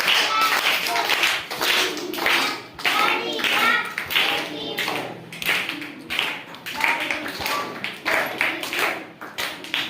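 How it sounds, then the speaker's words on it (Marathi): A group of schoolchildren in a classroom claps hands together to welcome a classmate, a dense, steady burst of applause lasting throughout, mixed with a teacher's voice and children chattering. "सगळ्यांनी टाळ्या बाजून स्वागत करायचं आहे"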